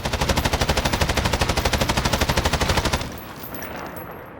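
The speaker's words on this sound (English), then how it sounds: "On the station gunfight map, if you shoot this thing," Rapid automatic gunfire in Call of Duty Modern Warfare (2019) on the Station gunfight map, aimed at an object, a loud steady stream of evenly spaced shots for about three seconds before fading into a lingering echo.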